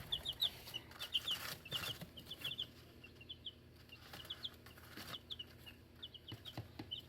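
Young chicks, two and nine days old, peep in quick high chirps scattered in short bursts, near and fairly soft, with occasional low bumps and rustling in between.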